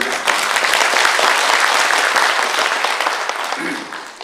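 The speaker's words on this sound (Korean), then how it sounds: "우리 다시 한번 박수 쳐주세요" Loud, sustained applause from a crowd, dense clapping that fades slightly toward the end.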